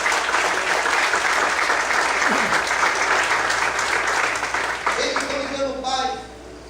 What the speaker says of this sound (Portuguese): Quantos podem aplaudir e glorificar o Senhor nessa noite?